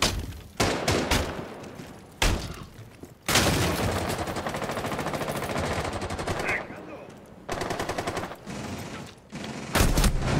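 Bursts of rapid gunfire crackle in the video game Rainbow Six Siege, ranked match, several volleys separated by short pauses, loud and close, with brief voices in between.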